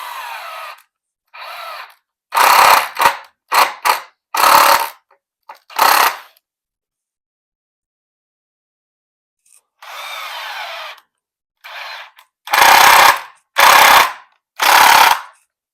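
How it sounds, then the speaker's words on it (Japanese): A power drill bores a pilot hole into scrap wood for a small DIY bike stand, with several short bursts and a few longer runs separated by pauses of near silence. "じゃあ、まず下穴開けます。"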